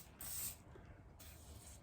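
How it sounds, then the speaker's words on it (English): Seal 1 firearm cleaner and lubricant sprayed into a rifle upper in one short, close hiss, followed by quiet handling noise. "spray a little bit in there"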